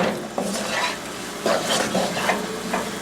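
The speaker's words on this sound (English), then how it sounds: "So we have to stir it because we don't want it to burn at the bottom." Mohanbhog mixture is being stirred in a pan with a spoon, producing repeated scraping and clinking strokes over a soft background sizzle, with a steady rhythm and nearby presence.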